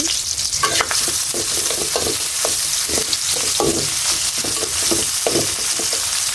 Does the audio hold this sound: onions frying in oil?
yes